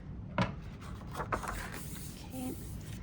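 Scissors or a blade cutting paper at a fold line during card crafting, heard as a brief snip followed by soft rubbing and rasping of paper, close and quiet.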